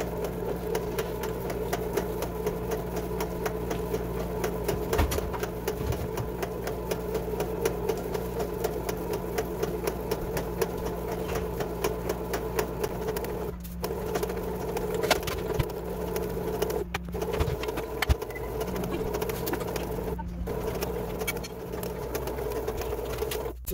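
A Regal K6726 automatic bread maker mixing dough in a kitchen, giving a steady, continuous motor whir and hum with faint rhythmic churning, unbroken and fairly quiet, with no voices over it.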